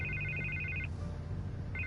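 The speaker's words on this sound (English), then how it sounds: "I can't get the phone to stop ringing." A telephone rings in a Batman Telltale video game, two bursts of a trilling electronic bell separated by a short pause, clear and close.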